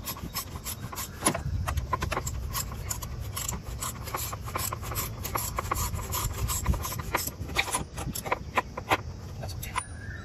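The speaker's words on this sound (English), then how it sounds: "Tighten the filter assembly back." Oil filter assembly being tightened by hand and spanner on a Polo 6R 1.6 TDI during a service, close scraping and rubbing with irregular ratchet-like clicks and scuffs throughout.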